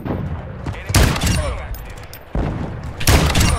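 Gunfire from a gun in a first-person shooter video game: several loud bursts of rapid shots with sharp cracks, separated by brief pauses.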